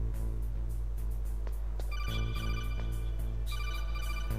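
An incoming codec call from Campbell in the video game Metal Gear Solid rings as a steady electronic tone. A bright pulsing chirp repeats over a constant low hum.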